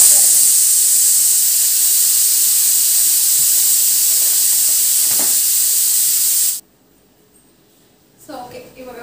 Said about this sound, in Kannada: ಇವಾಗ ಕುಕ್ಕರ್ 2 ವಿಷಲ್ ಬಂತು, ಆಫ್ ಮಾಡಿಟ್ಟು ಬಂದೆ